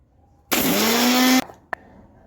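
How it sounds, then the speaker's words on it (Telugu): A kitchen mixer grinder whirs loudly for about a second, blending tomato, onion and cashews into a smooth paste, then cuts off, followed by a short sharp knock. "మెత్తగా మిక్సీ పట్టుకోవాలి"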